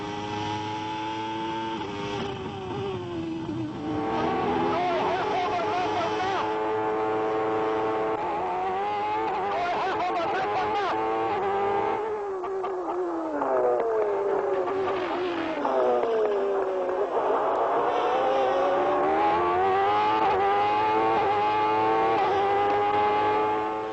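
McLaren Formula One car on a fast lap, its high-pitched engine screaming and rising through gears with drops at each shift and braking, sustained and fairly loud, no voices over it.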